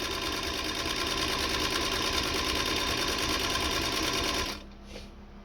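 A Singer 221 Featherweight sewing machine runs at a long stitch length with a steady, fast, close whirring rattle. After about four and a half seconds it stops abruptly and only a faint click is left.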